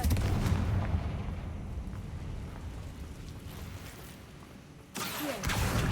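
Confringo blasting spell in the Hogwarts Legacy game, a booming rumble of explosions and crackling debris that fades, then a sharp fresh burst near the end, loud and close.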